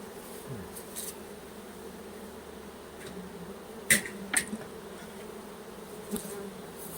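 Steady, faint drone of a Russian honey bee swarm buzzing near the hive, with a few sharp knocks and clicks over the hum and no voices.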